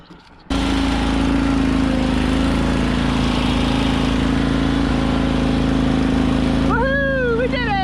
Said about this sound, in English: let me get back on the mower